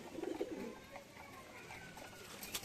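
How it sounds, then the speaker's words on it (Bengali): Giribaz pigeons at a home loft give soft, low cooing, clustered near the start and faint throughout, over a quiet, lightly hissy outdoor background. "খুব সুন্দর কবুতর উড়ছে"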